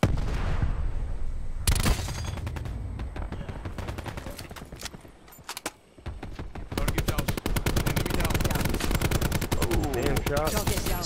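Automatic rifle fire in a jungle-map shooter video game rattles in long rapid bursts, loud and close, with a short lull midway before dense firing resumes.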